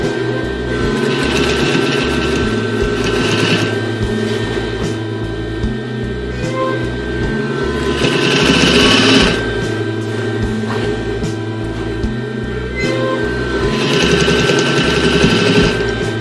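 Sewing machine stitching and backstitching a fabric slipcover for a lampshade, a steady close mechanical whir with rhythmic needle chatter that swells in brief bursts, running continuously with no talk.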